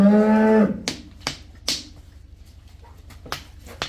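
A cow on a dairy farm moos once, close and loud, at the start. Sharp, intermittent clicking sounds follow over a quiet background.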